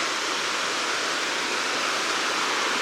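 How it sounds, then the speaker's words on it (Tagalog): A river runs low after several hot days, its steady broadband rush of flowing water constant and fairly close, with no voices or other sounds over it. "Yan po yung river."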